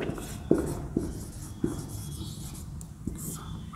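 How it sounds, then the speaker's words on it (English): Marker or chalk writing on a board during a physics lesson on gravitation numericals: a few short taps and strokes at a steady pace, close and fairly quiet over low room noise, with no talking. "The formula I will write here."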